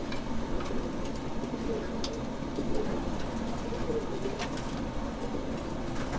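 A male racing pigeon coos in the loft, a low steady murmuring that runs throughout at moderate distance over faint background noise, with no talking.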